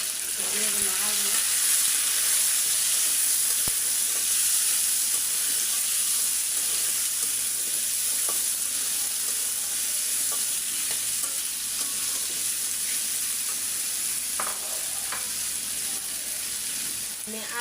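Potatoes fry in a pan with ginger and garlic for a mixed-vegetable lentil dish, giving a constant, close sizzle and hiss that runs throughout, with occasional scraping stirs.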